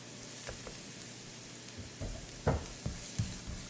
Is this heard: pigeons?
no